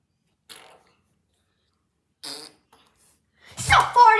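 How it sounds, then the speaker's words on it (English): A fart in a home setting during a kids' true-or-false game, a couple of short faint bursts followed by louder rasping noise mixed with a voice. "Stop farting"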